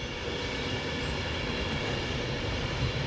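A long Avanti Pendolino electric passenger train passes on a British railway line, giving a steady, moderately distant broadband rumble and rush that holds evenly for a few seconds.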